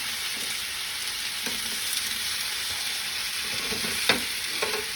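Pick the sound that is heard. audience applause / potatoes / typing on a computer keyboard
potatoes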